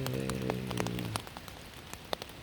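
Steady rain patters at night on a campsite during a solo hike at Pictured Rocks, a soft continuous hiss with scattered drops close by, briefly overlaid by a low droning tone at the start.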